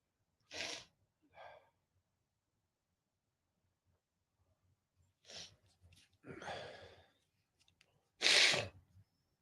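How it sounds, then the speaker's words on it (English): A man sneezes in a run of several sharp bursts with gasping breaths between them, some spaced apart, ending in one loud sneeze close to the mic. "Just got a like little sneeze run going there."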